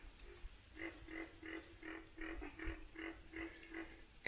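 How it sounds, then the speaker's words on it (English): Frogs croak in a steady rhythmic series, about nine evenly spaced calls, moderately close over a low outdoor rumble, at a pond in Fakahatchee Strand, Florida. "You can hear the frogs croaking."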